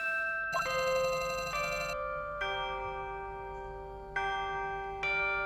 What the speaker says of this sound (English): That is the exact sound effect for freaking Danganronpa.